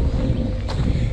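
Wind gusts across an empty ghost-town train station in Alberta, Canada: a steady, close rushing roar that buffets the microphone, with one brief brighter swell near the end.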